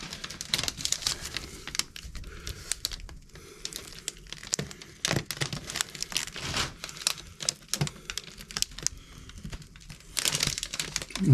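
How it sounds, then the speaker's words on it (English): A freshly laid fiberglass fender flare for a Toyota JZX81 drift car is pulled off its mold, producing a long run of close, crackling, crinkling pops and snaps that flare up and fade unevenly, with no one speaking. "I can see it peeling off"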